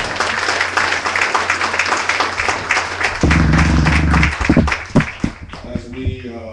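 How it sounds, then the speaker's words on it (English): An inauguration crowd at a Reno district event gives a round of applause for new senators, with dense steady clapping and some voices that trail off toward the end, followed by a few scattered claps. "So one more round of applause for our new senators."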